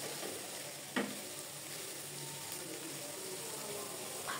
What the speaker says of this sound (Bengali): এবার মাঝারি আঁচে অনবরত নাড়তে থাকবো।